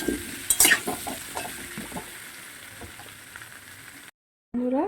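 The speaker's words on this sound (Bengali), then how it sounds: "আলুগুলোকে একটু লাল লাল করে ভেজে নেব সামান্য নুন আর হলুদ দিয়ে" Potatoes sizzle and crackle in hot oil with a little salt and turmeric, stirred with a few scraping strokes early on before settling into a steady fry, then a brief silence and a short burst of talk at the end.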